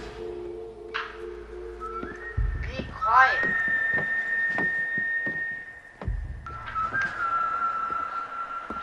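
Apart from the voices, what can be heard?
person whistling along to Red Dead Redemption music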